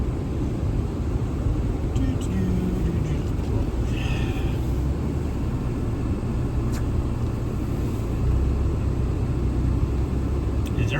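Inside a car driving in a blizzard, a continuous low road rumble and engine drone fill the cabin, steady throughout with faint passing noises over it.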